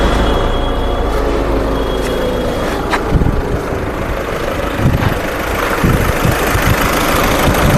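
A 2013 Volkswagen Vento car engine idles steadily and loudly close by, a continuous low rumble with a faint knocking texture and no speech.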